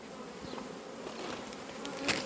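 A steady, dense buzzing of many honeybees close by at a vertical hive, with a few louder individual bees passing near the microphone.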